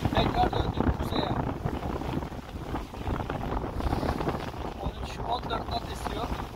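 Gusty wind buffets the microphone over a boat on open water in the Red Sea, 13-14 knot winds against strong current, a continuous roaring rush with faint voices underneath.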